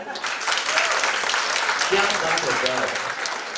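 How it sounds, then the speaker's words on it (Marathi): Clapping from an audience at a 50th wedding anniversary celebration, a steady burst of applause lasting a few seconds, with voices and some cheering mixed in. "तुमच्या सगळ्यांची ऊर्जा मला समजावी यासाठी एकदा जोरदार टाळ्या झालं पाहिजे"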